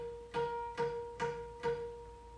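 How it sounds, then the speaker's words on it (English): Four bright harmonic tones plucked on the seventh string of a guqin at the fifth hui, evenly spaced and ringing clearly with short decays, played alone without speech. "7th string at 5th hui sounds like this."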